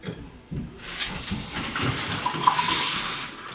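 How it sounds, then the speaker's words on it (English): A repaired bathroom faucet is turned on and runs steadily into the sink. A close, loud hiss of flowing water starts after a short pause and keeps going with no talking. "so I've got the faucet working. It's not leaking."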